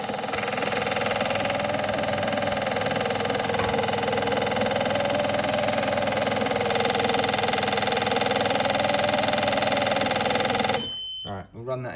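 A fuel injector test bench pump runs steadily at close range, a dense continuous mechanical drone with a faint pulsing whine, cutting out abruptly near the end.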